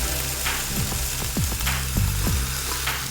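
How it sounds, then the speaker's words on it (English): Bok choy frying in a pan, a close, steady sizzle with a few sharp scraping and clicking stirs over the hiss. "I give them a couple stirs, and then I drop in my bok choy."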